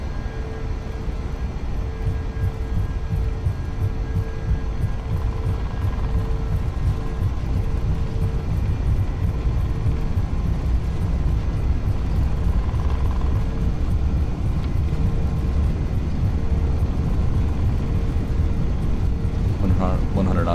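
FSLabs A321 rolling down the runway for takeoff in Flight Simulator 2020 on a Helsinki to Madrid flight, a steady loud low engine roar with a faint whine held throughout the clip, with cockpit speech over it.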